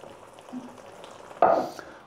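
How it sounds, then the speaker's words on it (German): Macaroni and cheese gently fries in a pan on moderate heat, a soft low sizzle that jumps to a brief louder hiss and stir partway through, heard close with no talking. "Und während meine Macaroni and Cheese gerade ein bisschen anbraten"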